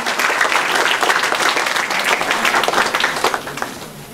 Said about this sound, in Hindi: अरे ठीक से बजा लो भैया ताली तो कम से कम।